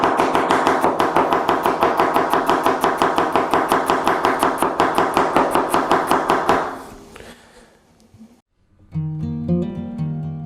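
A knife thinly slices half an onion on a cutting board in a home kitchen, with fast, even chops that repeat in a steady rhythm for several seconds, close and crisp, before stopping.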